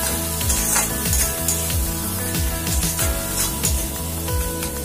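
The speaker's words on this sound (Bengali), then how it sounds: "দিয়ে ভালো করে আমি এটাকে কষিয়ে নেব যতক্ষণ না এটার থেকে তেল বেরিয়ে আসছে।" Cumin and coriander powder masala fries in oil with a constant crackling sizzle, heard together with rhythmic background music for about five seconds.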